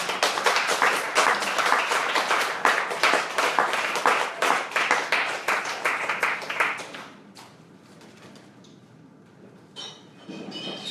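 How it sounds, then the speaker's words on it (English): Audience at a live music show at The Blue Lamp in Aberdeen claps and applauds loudly and rhythmically for about seven seconds, then it fades to quiet room noise with faint clinks. "Give yourselves a round of applause."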